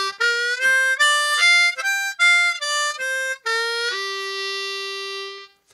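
Played in second position on a harmonica, a minor pentatonic scale runs through roughly ten crisp, separate notes and settles into a long sustained final tone. The sound is close and clear, with no voices.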